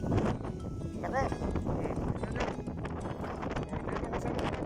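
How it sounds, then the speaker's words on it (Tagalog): Strong wind from a sandstorm gusts across a rooftop in Jeddah, a loud, steady roar of rushing air buffeting close to the microphone, with a voice faintly present beneath it. "Lakas ng hangin."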